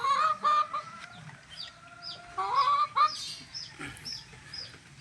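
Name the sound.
rooster clucking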